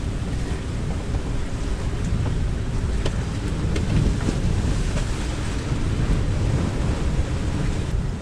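Strong wind buffets a sailboat on a gusty sailing leg, a constant loud roar of wind noise and rushing water with no voices.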